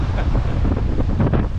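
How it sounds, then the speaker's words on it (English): A strong gust of around 35 knots buffets a 16-foot trailer sailer, roaring loudly across the microphone with rushing water and hull noise beneath, sustained and close for the whole moment. "That gust would have been, I don't know, close to 35 knots."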